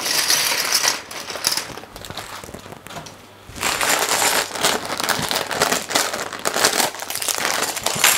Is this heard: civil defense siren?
no